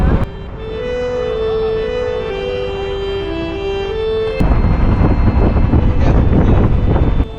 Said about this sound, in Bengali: আপনাদেরকে ঝোড়ো বাতাসের একটু শব্দ শোনানোর চেষ্টা করলাম